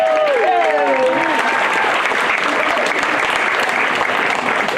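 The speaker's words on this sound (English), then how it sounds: "So I'd like you to join me in a big round of applause for Kent Nicholas." Steady, dense audience applause fills the whole stretch at an even level, welcoming a Kingdom Swim open-water swimmer, with a voice briefly audible early on over the clapping.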